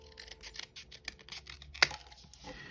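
Scissors trimming paper for a pinwheel paper clip craft, a string of soft, quiet snips and rustles close by, ending with one sharper cut, with no one speaking.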